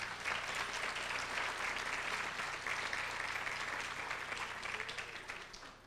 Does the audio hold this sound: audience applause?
yes